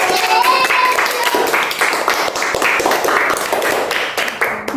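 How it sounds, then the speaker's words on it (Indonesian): Children in a classroom applaud a classmate named Gio, with quick, rapid claps from many hands filling the whole stretch, close and loud, while a few voices talk underneath. "Tuh, tepuk tangan semua buat Gio"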